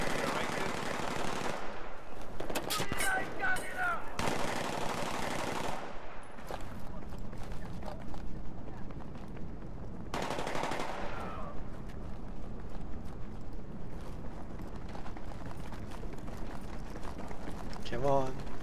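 Pistol gunfire crackles through a Battlefield 3 multiplayer match, with rapid bursts of shots over constant game noise. A player talks over the action.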